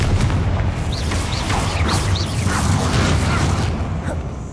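Confringo fire spell blasts in the video game Hogwarts Legacy, a steady loud roar of booming impacts with several quick whooshing bursts layered over dense game noise.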